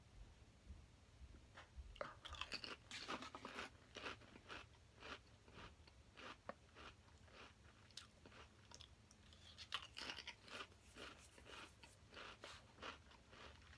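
A bacon-flavored snack crunched and chewed close up, a series of crisp irregular bites and munches at a very quiet level, with no talking over it.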